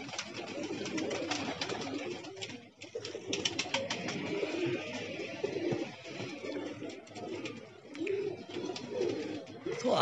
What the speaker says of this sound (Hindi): और ये 11वां कबूतर आया है